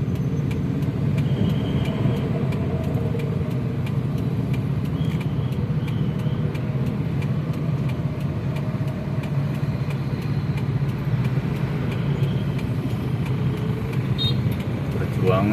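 Cars idle and creep in a Jakarta traffic jam, a steady low engine hum with surrounding roadway noise throughout, under a conversation inside the vehicle.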